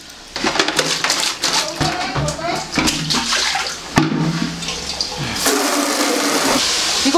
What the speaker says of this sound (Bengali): আগে বালতিটাকে ধুতে হবে